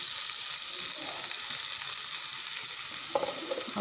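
Roasted cauliflower fries in butter with salt in a pan, giving a continuous bright sizzle and hiss that stays steady and close throughout, with a brief stirring scrape near the end.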